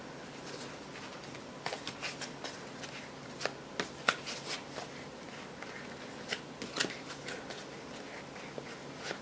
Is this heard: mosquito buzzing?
no